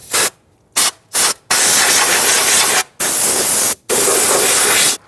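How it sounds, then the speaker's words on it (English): Compressed air sprays in short bursts to blow dirt and debris from around a 2006-2010 BMW 550i fuel pump module: three quick loud hisses, then two longer sustained blasts separated by brief pauses, all close and with no talking. "we're just going to use some compressed air, just clean out any dirt and debris"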